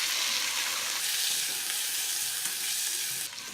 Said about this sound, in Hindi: चिकन डालकर थोड़ी देर भूनें।